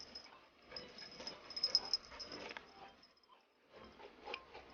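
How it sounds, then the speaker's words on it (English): A dog and a pig play together nearby, with soft sniffing, snuffling and faint whimpering grunts in uneven bursts, a brief pause and then more snorting, all fairly quiet with no talking. "My dog and Sarah's pig are having a heyday together."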